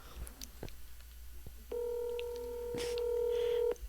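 A phone dials out with a few quick touch-tone beeps, then a long steady tone sounds loudly for about two seconds, with faint background noise before it.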